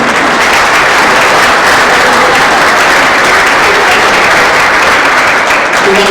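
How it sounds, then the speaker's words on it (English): Loud, dense applause from a banquet audience at a Section IX track and field Hall of Fame induction ceremony, steady and continuous throughout with no break. "Give everybody a nice round of applause who's here this afternoon."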